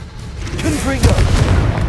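A Confringo explosive spell in the video game Hogwarts Legacy: a shouting voice, then a loud booming blast around the midpoint followed by a rumbling roar that continues to the end.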